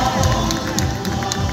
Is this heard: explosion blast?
no